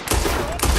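Gunfire in Red Dead Redemption 2, a dense fusillade of loud, close shots in two bursts, at the start and near the end of a short moment of combat.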